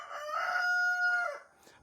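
A neighbour's rooster lets out a single clear, drawn-out crow at moderate distance, with no other sound around it, trailing off into near silence.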